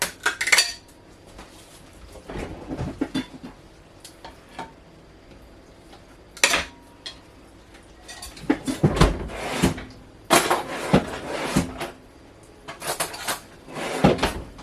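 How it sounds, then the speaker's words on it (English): Canned pumpkin, two 15-ounce cans, is scooped into an egg mixture for a pumpkin pie. It comes through as scattered spoon and metal-bowl clinks and scrapes with quiet gaps between, close up and fairly soft. "I'm going to go ahead and just scoop that on in to the egg mixture."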